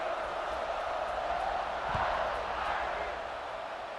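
A stadium crowd roars in a College Football 26 video game before a Notre Dame versus Texas kickoff, a steady, dense wash of distant cheering that holds level throughout, with commentary faintly present.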